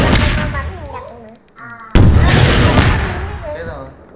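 Video game gunfire in a Skibidi Toilet shooter, heavy booming shots close and loud, one burst early and a harder blast midway, with someone talking over the game sounds.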